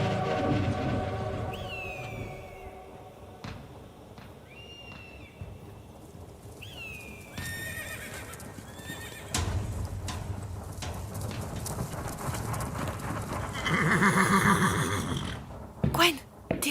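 A horse whinnies several times in short, rising-and-falling calls over a steady rumble of a train and rail wagons, with voices and clatter building toward the end.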